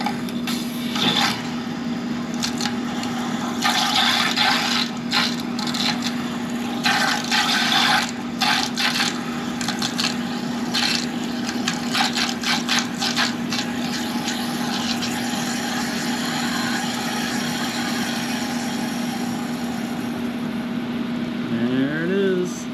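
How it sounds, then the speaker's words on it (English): Water flows continuously into a 40-gallon hot water tank through plumbing as a kitchen sink tap stands open to bleed air, a steady hum with rushing, sputtering bursts throughout and a brief tone sweep near the end. "open up the tap on the hot water tank. I have the kitchen sink tap open. And all the air is going to bleed out and it's going to fill the tank"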